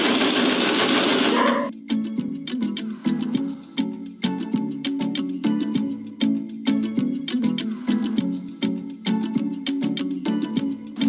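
Sewing machine stitching back and forth to lock a seam on a gift product, with a loud whirring burst at the start, then a string of short rhythmic needle runs with brief pauses between them, close up with no talking.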